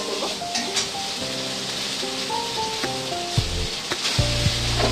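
Rice frying and being stirred in a pan with a little garlic, giving a steady close sizzle broken by scraping stirs, with faint background tones and bumps near the end.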